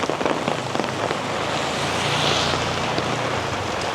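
A rain storm on a beach in Da Nang, Vietnam, brings a steady, loud hiss of rainfall mixed with surf and a low rumble of wind, continuous throughout with no voices.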